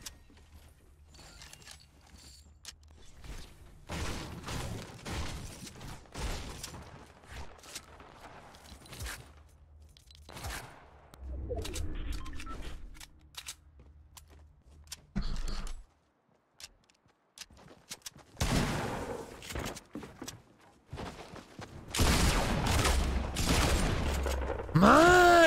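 Pistol fire in Fortnite Battle Royale: scattered bursts of rapid shots and clicky mechanical handling sounds come in uneven clusters, with near-silent gaps between them.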